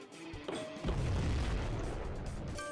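A deep, booming explosion in the Marble Blast PlatinumQuest video game, with a sharp onset and a sustained rumbling tail.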